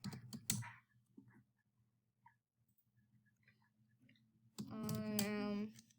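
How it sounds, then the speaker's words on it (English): A computer keyboard clicks as someone types a chat message: a short burst of close keystrokes, then sparse quiet taps, and a voice briefly at the end. "let me just type that in chat"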